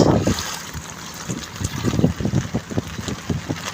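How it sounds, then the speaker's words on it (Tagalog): Floodwater sloshes and splashes in irregular surges in a garage in Tondo, Manila, wind buffeting the microphone, with no voices. "Guys, baha na yan guys."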